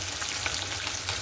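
Six fish sizzle together in hot oil in a frying pan on a home kitchen stove, a steady close crackling hiss with small popping spatters and no talking.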